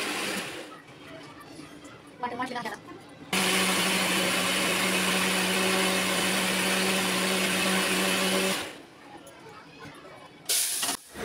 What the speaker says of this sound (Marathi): आणि आता मी घेते आहे मसाला वाटून.